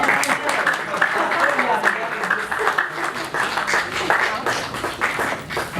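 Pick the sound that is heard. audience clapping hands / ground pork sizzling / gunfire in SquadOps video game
audience clapping hands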